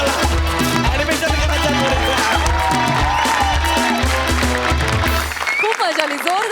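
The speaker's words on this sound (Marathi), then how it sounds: "जोरदार टाळ्या" A studio audience at a Marathi comedy show applauds with loud, sustained clapping that blends with a bright music sting and fills the whole stretch before thinning near the end.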